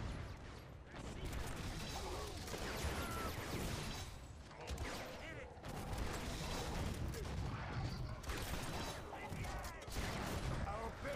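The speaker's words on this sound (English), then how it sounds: "really enjoying this explosion damage at the moment" Trap explosions in the video game Orcs Must Die! Unchained go off in dense, continuous bursts of blasts and crashing debris, loud and chaotic with brief dips between waves.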